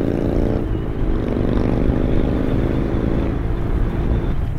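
A motorcycle engine revs steadily and loudly up close, its low exhaust rumble with a strong harmonic drone, and faint crackle from exhaust popping mixed into continuous wind-buffeted noise throughout.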